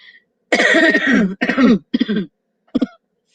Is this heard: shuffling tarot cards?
no